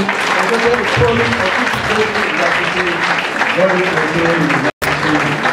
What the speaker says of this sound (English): Let the hands clap as she mounts the